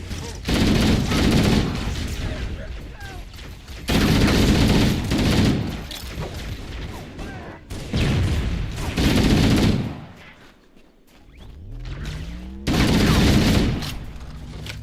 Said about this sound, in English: That fucking ship is shooting at me.